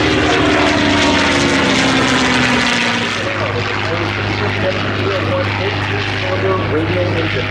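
A WWII warbird fighter with a 1,600 horsepower radial engine passes by, a loud roaring engine drone that shifts in pitch as it goes past, then settles into a steady lower rumble.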